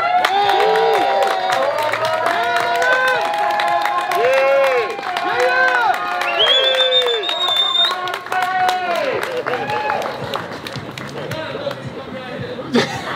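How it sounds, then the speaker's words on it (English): Applause and cheering from a large audience at a Joe Kennedy III Senate campaign event in Roxbury, with voices calling out over a dense, continuous clapping wash that gradually thins. "Judging by the sound of the applause,"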